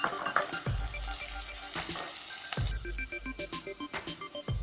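Onions sauté in a pan for a Kerala-style sole fish curry, a soft sizzle broken by several sharp spatula scrapes and knocks against the pan.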